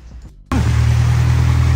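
A vehicle drives through a flooded street in Navotas, a steady loud low rumble of engine and churning water that starts abruptly after a short quieter moment.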